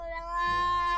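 A cat's drawn-out tonal warning yowl, steady and close, rising slightly in intensity partway through and held for about a second.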